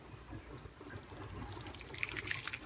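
Boiled bottle gourd is poured into a strainer in a home kitchen, giving a short wet splashing and dripping of water and soft pieces that builds toward a brighter trickle at the end.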